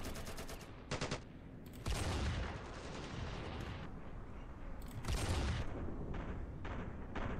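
Video game gunfire in Ravenfield, with dense overlapping rifle and machine-gun bursts and booming blasts in a continuous, fairly quiet battle din, no talking.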